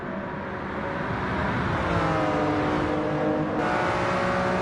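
Lamborghini Countach 25th anniversary supercar racing in Gran Turismo 7, its engine revving up and holding a loud, rising whine through a gear change. No voices.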